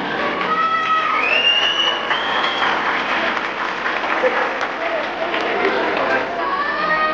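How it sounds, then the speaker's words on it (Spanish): Crowd applause and cheering at the 2024 Catrina parade in Erongarícuaro, a steady wash of clapping with whoops rising above it and voices talking through the noise. "El aplauso para Ivón."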